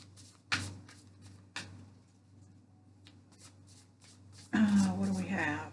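A deck of tarot cards is shuffled to draw a card, giving a few soft riffling snaps and taps separated by quiet gaps, then a louder burst of handling at the end.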